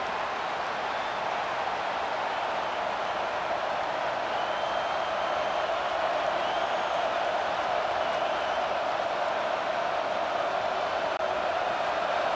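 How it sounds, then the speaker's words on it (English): Steady crowd roar filling a college football stadium during a Wisconsin Badgers vs. Iowa Hawkeyes game, a continuous broad wash of many voices held at an even level throughout with no clear peaks. "The roar of the crowd trying to fuel this defense to keep them pinned in their own end."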